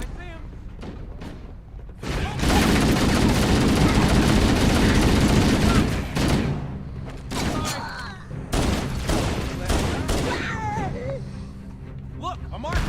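Halo CE gunfire rattles in a sustained, loud automatic burst for several seconds, then breaks into scattered shots and impacts. Voices talk over the action.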